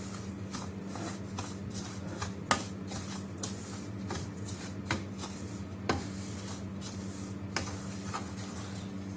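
Semolina roasting in ghee in a pan for a rava ladoo sweet gives soft, dry scraping and rustling from steady stirring, with a few sharper scrapes over a constant low hum. No one talks.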